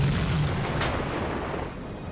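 Submarine deck gun firing high explosive shells in Silent Hunter 4, a single sharp boom early on followed by a long rumbling decay over steady background noise.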